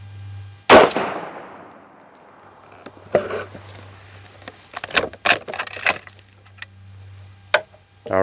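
A single sharp rifle shot from a Marlin lever-action or bolt-action rifle, a loud crack near the start followed by a decaying outdoor echo, then scattered metallic clicks and handling noises from working the action.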